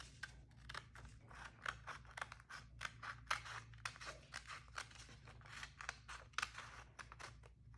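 Scissors snip steadily through paper in quick, repeated crisp cuts, close up over a low background hum, with no talking.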